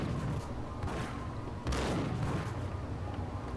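Gunfire in the Max Payne video game, with a dense, steady barrage of shots from enemies rolling on throughout and a louder burst partway through.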